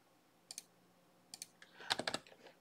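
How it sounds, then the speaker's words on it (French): Keys tapped on a computer keyboard to enter a shortcut in Revit MEP, a few quiet close clicks in pairs followed by a quick, slightly louder burst of keystrokes. "On va faire CC au clavier."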